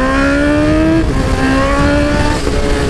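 A 2020 Honda CB1000R motorcycle accelerates hard and close, its engine a loud whine that climbs steadily in pitch, dips briefly at a gear change, then rises again.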